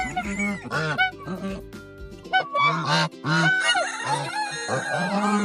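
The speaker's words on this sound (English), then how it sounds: "I always like the noise that the Chinese geese make." Chinese geese honk repeatedly at close range, loud nasal calls overlapping in uneven bursts, with a few short gaps between.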